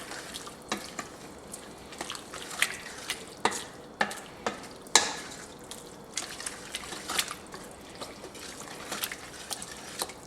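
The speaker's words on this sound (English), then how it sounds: "ground mustard, chili powder, and beef broth. Let's give this a mix real quick." Ground mustard, chili powder and beef broth stirred in a pan for sloppy joes give a quiet, close scraping and liquid tapping, irregular clicks of the utensil repeating throughout, with no voices.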